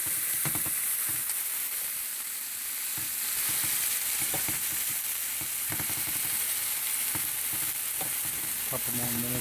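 Tenderloin steaks brown in a hot pan with a continuous close sizzle and frequent small pops and spatters throughout, no one talking.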